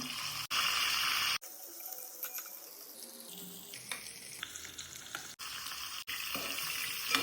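Cooked chicken drops into hot coconut oil with curry leaves, bursting into a loud, hissing sizzle that drops to a gentler crackle for several seconds before the fierce sizzle returns near the end.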